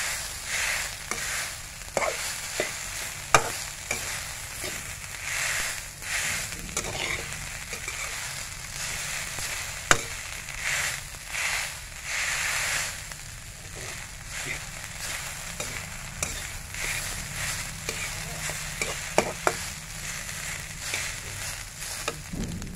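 Garlic fried rice being stirred and fried in a pan, with a steady sizzle and frequent scraping clicks of the utensil against the pan throughout, close and moderately loud.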